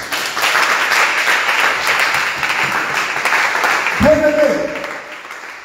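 A church congregation claps loudly in sustained applause that fills the room and then fades near the end, as a voice begins speaking over it.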